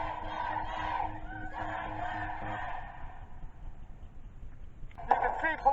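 A protest crowd in Minneapolis riots shouts and yells together in a loud, sustained roar, fading briefly before another burst of massed voices rises near the end.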